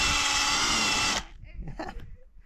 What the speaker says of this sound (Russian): Сейчас будем пробовать ее на гусе шуруповертом.